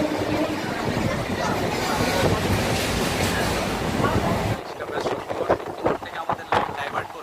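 The Howrah-Chennai Mail runs along the track as heard from inside a carriage, a loud steady rumbling roar that suddenly drops to quieter rattling and clattering in the last few seconds.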